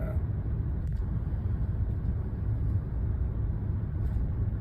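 A van turns around and pulls off to the roadside, its steady engine rumble and road noise droning continuously from inside the vehicle at moderate loudness.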